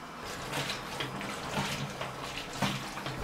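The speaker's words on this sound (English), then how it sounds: "Be sure to pour your fixer back into the tank for reuse." Ilford Rapid Fixer pours into a film developing tank, a steady close splash and trickle of liquid running for a few seconds with small gurgling surges.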